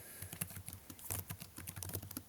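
Computer keyboard typing of code comments: quick, irregular clusters of close key clicks with brief pauses, fairly quiet and with no voices.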